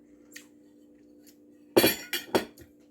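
Wine glasses clink together over a meal of chicken and rice, with three or four sharp, bright chinks in quick succession following a quiet steady hum.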